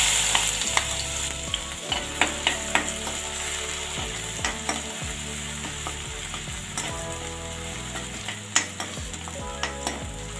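Steady loud sizzling of finely chopped garlic frying in hot oil with whole spices, with repeated scraping and clicks from stirring in the pan.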